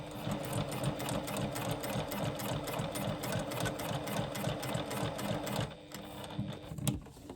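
A sewing machine stitching a curve, running in a fast steady mechanical whir with rapid needle clatter close by, then slowing and stopping near the end.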